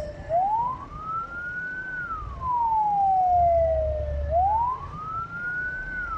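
An ambulance siren, the ambulance stuck in traffic on the Gentong incline, wails and rises and falls in long slow sweeps, loud and steady, over the low rumble of road traffic.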